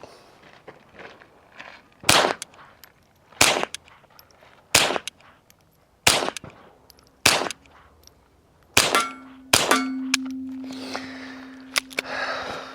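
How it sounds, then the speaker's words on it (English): A Ruger Mark IV .22 pistol fitted with a Shadow Silencers Duo Mini suppressor fires about ten muted, snappy shots at irregular intervals, close by, with faint clinks between them and a low hum near the end. "we're gonna go ahead and just run 10 rounds down range with the Ruger Mark IV right here"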